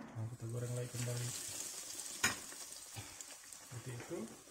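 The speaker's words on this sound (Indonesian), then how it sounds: "Nah, kita goreng lagi kembali." Cheese bread fries in hot oil with a steady sizzle, while stirring sounds and a sharp clatter cut in and a voice hums or talks faintly in places.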